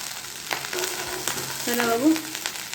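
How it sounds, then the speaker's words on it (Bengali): Rice fries in a pan with a constant close sizzle and occasional stirring scrapes, while a short spoken phrase is heard partway through. "ভাত ভাজছি, ভাত ভেজে বাবুকে খাওয়াবো একটু"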